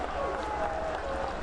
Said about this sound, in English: the fans having to shake off a little rust as they stand up and cheer on Wechter